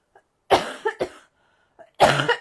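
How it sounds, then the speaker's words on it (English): A few sharp, close coughs in quick succession, a short pause, then another harsh burst of coughing. "because I went live, I have to start coughing"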